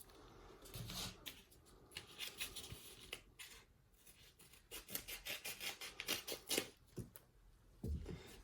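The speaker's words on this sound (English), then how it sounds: "I do know I'm using a pair of scissors" Repeated snipping of scissors cutting open mail, close and quiet, in irregular bursts of quick snips with brief pauses between.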